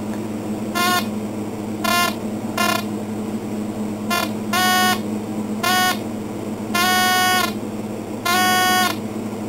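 Harbor Freight 9-function Hobbyist Discriminating Metal Detector in pinpoint mode, all-metal setting: a series of short electronic buzzing tones, each about half a second, repeating irregularly over a steady low background hum.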